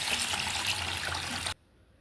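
Running tap water washes rice and masoor-type lentils for khichuri in a kitchen, a steady rushing splash for about a second and a half before it cuts off abruptly into near silence.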